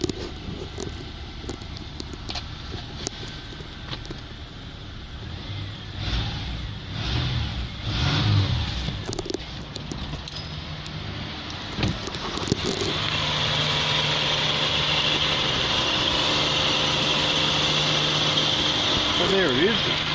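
A Subaru Forester's 2.5-litre EJ25 boxer engine starts and runs at an auto wreckers' yard, with a rough, uneven idle under talk early on, then a steady louder drone after about twelve seconds.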